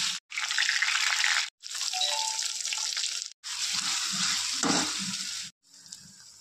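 Garlic sizzles and crackles loudly in a hot pan in several long bursts separated by brief silent cuts, with some stirring and clinking in between.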